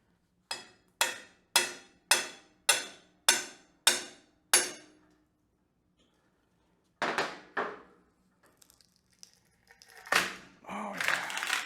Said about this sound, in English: Nothing that a hammer can't fix.